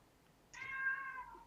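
A single short cat meow, faint and clean, played back by a Google smart speaker, rising then trailing off over quiet room tone.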